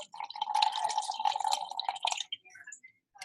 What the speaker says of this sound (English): I'm going to pour my sample of water in to see how much the water weighs.